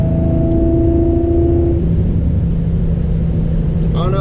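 Loud exhaust note from a supercharged Infiniti G35 running a pops and crackle map, a steady low engine rumble with a held drone that shifts tone partway through, continuous and close.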